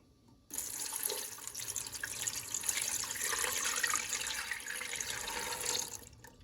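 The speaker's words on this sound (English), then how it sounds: "I'm gonna pour 3 cups of water." Water runs steadily from a tap for several seconds into a container holding potatoes, a continuous hissing splash that swells slightly before stopping abruptly.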